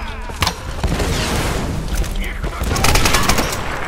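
Rapid bursts of video game gunfire and booming shots from Tomb Raider fill the clip, dense and loud, with a voice briefly heard underneath.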